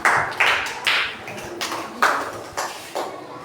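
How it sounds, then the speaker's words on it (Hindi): Children in a Hindi classroom clapping in praise of a correct answer, a sparse series of sharp, separate claps arriving in a loose rhythm, fairly near and moderately loud. "जो बच्चा सही बताए उसके लिए ताली जरूर बजाओ।"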